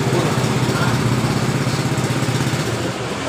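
A scooter's CVT with a loose, worn roller housing idles at low RPM, giving a fast steady knocking rattle over the engine's drone, close and loud.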